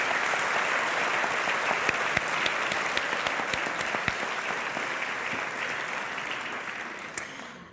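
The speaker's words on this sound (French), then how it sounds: "On les applaudit." An audience applauds two guests at a live anniversary broadcast for Réseau Entreprendre Bretagne in Brittany. The applause is dense and steady, with a few sharper claps standing out, and it holds for the whole stretch before easing slightly at the end.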